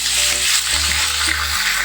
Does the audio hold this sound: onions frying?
yes